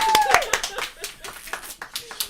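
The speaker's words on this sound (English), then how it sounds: "Round of applause." Scattered hand claps from a small quiz audience greeting a team's placing, a handful of sharp separate claps that thin out quickly, with faint voices underneath.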